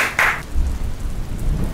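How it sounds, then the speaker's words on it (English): Heavy rain pours outside a house during a thunderstorm, a steady low rumble with a brief bright crackling burst near the start, no talking. "There's a pretty big storm outside."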